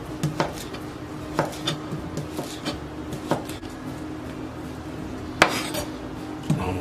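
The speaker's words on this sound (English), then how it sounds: "And now we cut up our smoked sausage." Smoked sausage being chopped with a knife on a board, with sharp, irregular knocks and light clatter from nearby cookware, close up and without talk.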